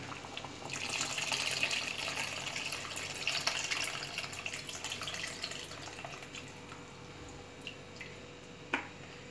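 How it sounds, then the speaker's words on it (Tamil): Tamarind water is strained and poured, trickling steadily with splashes and drips, then slowing to a few last drops near the end. "இந்த கரைச்சி வச்ச புளி தண்ணியை நம்ம ஃபில்டர் பண்ணி ஊற்றிக்கலாம்"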